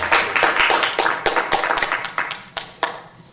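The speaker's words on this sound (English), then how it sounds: "this is the final warning that I'm going to give you for applauding and disrupting the meeting" An audience at a Sacramento city council meeting claps in a dense burst of applause that thins out into a few scattered, separate claps near the end.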